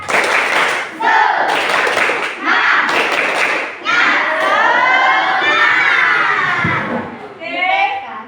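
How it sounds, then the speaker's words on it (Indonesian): A classroom of children performs a rhythmic spirit clap, bursts of patterned clapping mixed with shouted chanting voices, loud and close, with a teacher's voice leading. "Tepuk semangat."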